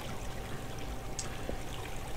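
Water flows steadily in Minetest, a faint, constant trickling stream heard alone with no other sounds.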